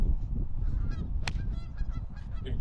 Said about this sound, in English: Goose kind of like honked in his backswing.